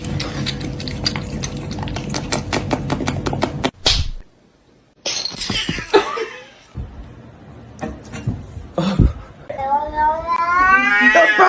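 A cat meows and caterwauls in loud, drawn-out bursts, with a short silent gap and a few sharp knocks partway through, ending in a long rising wail.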